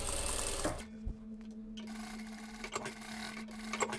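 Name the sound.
sewing machine stitching denim dress collar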